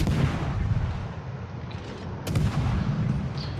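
Naval guns of the warship Öland open fire in a warship video game: heavy, booming salvos roll over a constant low rumble, with a fresh burst of blasts swelling partway through.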